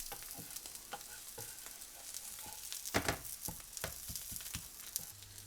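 Maggi veg patty sizzling in a hot pan, a steady close frying hiss with scattered crackles and pops and a few scraping stirs, with no talk over it.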